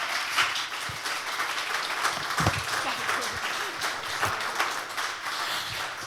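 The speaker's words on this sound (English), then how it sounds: "A big round of applause, please, for these two fantastic people." Conference audience applause at a sustainable fashion event, steady moderate clapping throughout, with scattered louder claps and a faint voice mixed in.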